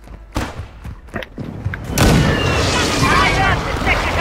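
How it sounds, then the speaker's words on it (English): Precision airstrike explosions in Call of Duty: Warzone 2.0, several thuds first and then a loud, sustained rumbling blast wash that fills the rest of the clip. "Friendly precision airstrike inbound."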